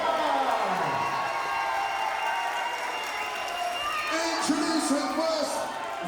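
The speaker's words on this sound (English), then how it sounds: "So give me some noise from the crowd." Crowd at a Swindon boxing event cheering and whooping, a steady mid-level roar with scattered shouts and some clapping, with voices over it.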